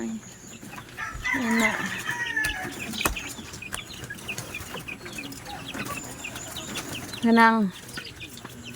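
Chickens near a coop cluck and squawk in scattered calls, with a louder rooster-like burst late on, close by over a background of talking voices.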